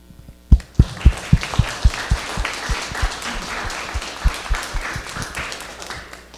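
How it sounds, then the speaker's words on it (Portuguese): A church congregation in Goiânia claps hands for Jesus at a children's service. Sharp, loud, fairly regular claps ring out over softer scattered clapping and a low hum. "Vamos bater palmas para Jesus?"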